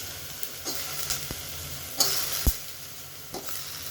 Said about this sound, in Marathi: हलवून घेऊया व्यवस्थित आपण